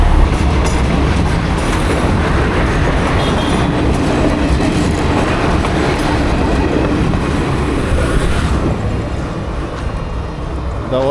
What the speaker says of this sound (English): that was a local train or a metro train.